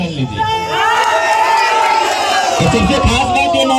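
A large crowd of young supporters cheers at an outdoor political rally in Dhanbad in the rain, with loud whoops and shouted voices rising and falling close by, blending into a steady roar.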